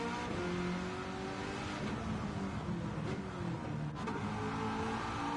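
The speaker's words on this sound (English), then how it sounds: "Sounds like you might have a little different exhaust on it." A GT3 race car in a Le Mans racing video game, fitted with a different exhaust, drones steadily at high revs with a rasping harmonic tone, loud and continuous with slight pitch shifts and no talk.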